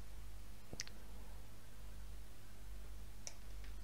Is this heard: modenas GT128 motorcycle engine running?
no